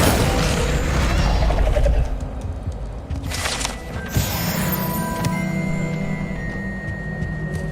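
An Incendio fire spell is cast in a Harry Potter video game: a loud, roaring burst of magical effect for about two seconds, then fainter whooshes and chiming tones.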